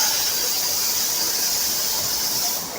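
Steady, loud hiss with a high squeal from a steam locomotive at a heritage railway museum, continuous and close throughout before easing slightly at the end.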